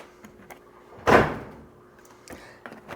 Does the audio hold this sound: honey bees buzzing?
no